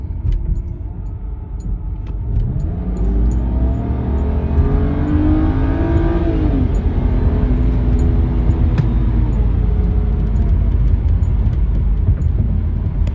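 A 2012 BMW 128i E82 with a 3-liter inline six drives along with worn front brake rotors, giving loud steady road and engine noise with a rising and falling whine as it accelerates.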